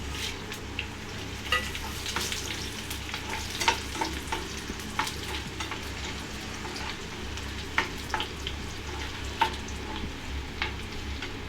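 Garlic, cumin seeds and dried red chillies fry in hot oil with a continuous sizzle, punctuated by frequent sharp pops and spatters, close and fairly quiet, with no voices.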